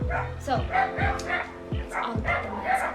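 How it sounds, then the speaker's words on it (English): Dogs bark repeatedly in the background, several sharp yips and barks in an irregular rhythm, heard under someone talking in the foreground. "Sorry for the dogs."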